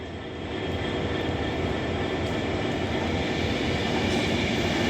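A Pendolino passenger train passes through Nuneaton station with a broad, steady roar of wheels and traction noise that builds slightly and holds loud throughout.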